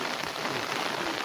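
Rain falling steadily near a bridge, a dense, even patter of drops on surfaces heard close and alone throughout.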